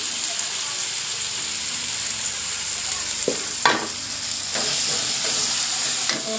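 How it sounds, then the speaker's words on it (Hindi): Saag greens frying and being stirred in a pan in a village kitchen, a steady sizzle with several sharp scrapes and knocks of the spoon against the pan, close by. "साग भी मैंने भून लिया अच्छे से"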